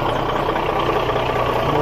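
A US semi truck's engine idles during a pre-trip inspection, giving a loud, steady low rumble with an even mechanical hum that holds unchanged throughout, with no voices.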